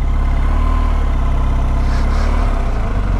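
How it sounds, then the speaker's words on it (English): A motorcycle engine held at a steady RPM while the clutch slips during slow-speed maneuvering over gravel and bumps, a loud, close, continuous low throb with a slight dip near the end. "I had the RPM kind of set, and I was just slipping the clutch"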